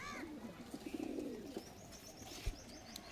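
Pigeons in a loft where lalmon-type racing pigeons are kept, with a faint low cooing from the birds and a few higher chirps above a steady background murmur.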